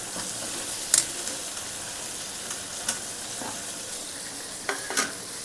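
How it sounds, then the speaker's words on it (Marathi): Boiled potato being sautéed in oil with spices in a pan, a soft continuous sizzle punctuated by a few sharp scrapes and clinks of the spatula as it is stirred. "आता आपण हे बटाटा चांगला परतून घेऊया मसाल्यामध्ये"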